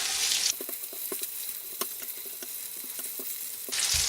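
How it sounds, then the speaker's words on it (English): Beef frying in very hot oil with five-spice powder and garlic: a loud sizzling hiss opens and closes the stretch, while the quieter middle carries repeated clinks and scrapes of stirring. "once the oil's very hot, in goes your beef"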